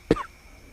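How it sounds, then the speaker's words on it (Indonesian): One short, sharp cough close to the listener, followed by a quiet, faint tail in a calm outdoor setting. "jadi batuk"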